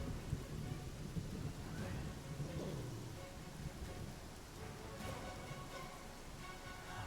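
Steady rain with rolling thunder fills the Pathfinder: Kingmaker game scene, a continuous dense wash of downpour with low rumbles swelling throughout, no voices heard.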